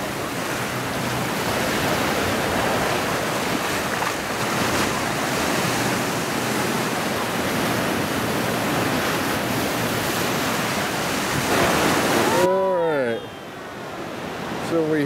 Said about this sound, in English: So we hiked along the beach over to here. We're back on Curl Curl Beach.